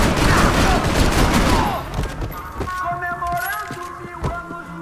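Gunfire from the Max Payne 3 video game, a dense burst of overlapping shots for the first two seconds, followed by scattered sharper single reports over lingering game noise.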